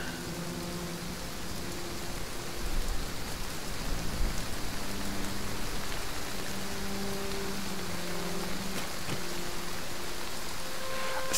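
Rainfall in the zombie survival game Ravage Livonia, a dense, continuous hiss of falling rain that holds steady and fairly loud throughout, with no voices over it.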